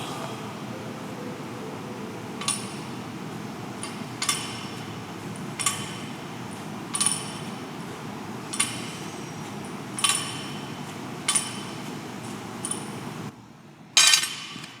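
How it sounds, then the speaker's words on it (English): Barbell clinking during muscle cleans done with a full grip: about eight sharp metallic clanks at roughly one-and-a-half-second intervals over a steady low background hum, ending with a louder clank after a brief silence. "I just do some muscle cleans, maintaining a full grip"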